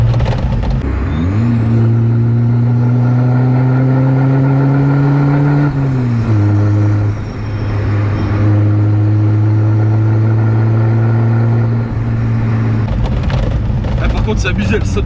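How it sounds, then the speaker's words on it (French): A car engine revs hard from inside the cabin with its turbo blowing. A loud droning tone climbs in pitch, dips at a gear change and climbs again, with voices underneath. "Oh, le turbo, comment il souffle."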